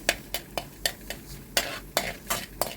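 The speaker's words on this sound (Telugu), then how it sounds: "కొంచెం ధనియాలు వేసుకున్నాను నూనెలో." Coriander seeds crackle and spit in hot oil in a pan, with sharp popping bursts landing roughly every third of a second, close and fairly loud, and no voices.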